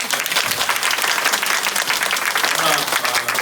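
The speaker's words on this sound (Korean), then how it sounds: "우리 박수 한번." A church congregation applauds after a visiting choir's worship singing, dense continuous clapping filling the hall for several seconds with some crowd voices mixed in.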